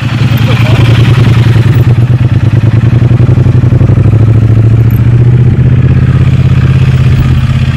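A 750cc motorcycle engine runs loud and steady through a slow, tight U-turn, a close low throb holding even with slight shifts in pitch, while a voice talks over it.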